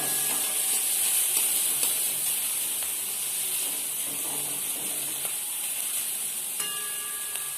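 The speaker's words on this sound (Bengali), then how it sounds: "বেশ কিছুক্ষণ এটাকে নেড়ে চেড়ে ভালো করে সবজিগুলি সেদ্ধ করে নিতে হবে" Vegetables are stir-fried in a pan as filling for veg Maggi spring rolls, giving a continuous bright hiss and sizzle with scattered small clicks from stirring, no talking heard.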